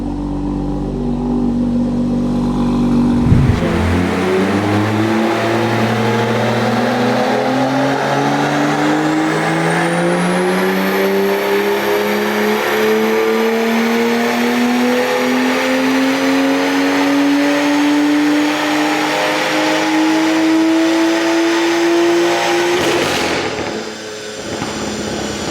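A drag car engine on 99 run fuel revs hard on a dyno with auto-shift active, a loud sustained roar climbing steadily in pitch for about twenty seconds before cutting off abruptly.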